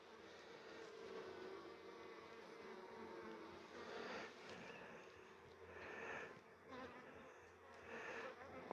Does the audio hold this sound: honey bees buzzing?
yes